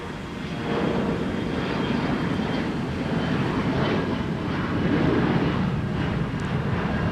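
An Embraer ERJ 145 regional jet spooling up and taking off from Minneapolis–St. Paul airport, a steady broadband engine roar heard from a distance that swells slightly toward the end, with no talk.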